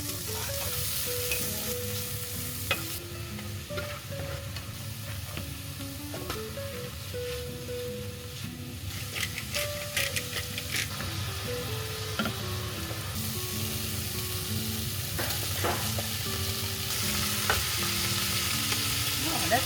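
Beef mince frying with bitter melon, onion, garlic, broccoli and mushroom, a steady close sizzle with stirring and scraping throughout and no talking.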